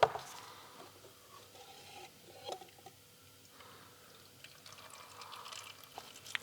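Engine oil draining from the opened oil filter housing of a Porsche Cayenne 957 diesel: a faint, continuous trickle and patter of liquid with a few small drips and knocks, close but quiet.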